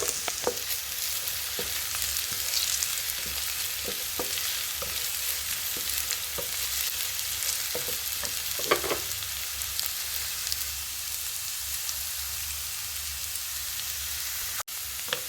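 Potato pieces sizzle and fry in a pan with garlic and ginger, a steady close hiss broken by frequent sharp scrapes and clatters of stirring.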